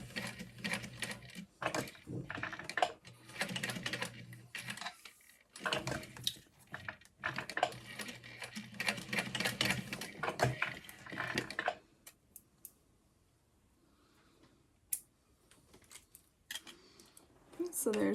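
A sewing machine runs in several fast rattling bursts while stitching a fabric bag in a U shape, with short pauses between runs and a person talking over and between the stitching before it goes quiet.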